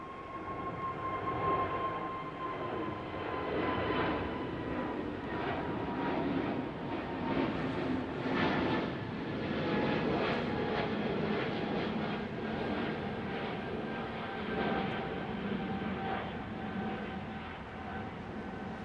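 An SAS Airbus A320neo departs Heathrow runway 27R, a fairly faint, steady engine rumble with high tonal whines drifting slowly downward, swelling gently in the middle and easing near the end.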